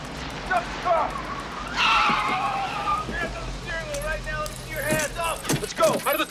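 A car in a police stop skids to a halt with a sharp tire squeal, then settles amid jangling keys, rustling movement and overlapping shouting voices at close range.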